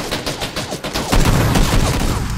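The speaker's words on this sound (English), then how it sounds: "You're getting shot from the building." Rapid gunfire in the PUBG video game, a dense string of loud shots that turns into a heavier, continuous volley of fire about halfway through.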